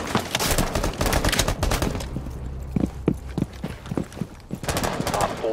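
Loud gunfire in the game Rainbow Six Siege, dense rapid automatic bursts at the start and end with scattered single sharp shots and thuds in between, close and punchy.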